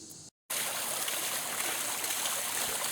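Water running over rocks in a small rock fountain with a Toru Oba Nami design, a steady close trickling and splashing that starts after a brief moment of silence and continues evenly.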